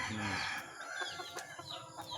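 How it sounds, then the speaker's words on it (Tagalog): Chickens cluck and crow nearby against a faint outdoor background, with a few short calls scattered throughout. "Ayan po ang ating mga manok."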